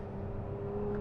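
The Toyota-sourced V6 of a 2022 Lotus Emira sports car on the Bathurst circuit gives a steady droning engine note under load, building slightly in loudness toward the end.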